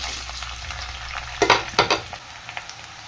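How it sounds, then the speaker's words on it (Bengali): Onions fry in hot oil in a pan: a soft background sizzle, then several loud, close bursts of scraping and stirring that trail off into lighter crackles. "পেঁয়াজটা প্রায় ভাজা ভাজা হয়ে গেছে"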